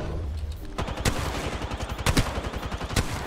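Gunfire in an Apex Legends–style battle royale duos match: several sharp, loud shots in quick succession over about three seconds, with bursts close together and no talking.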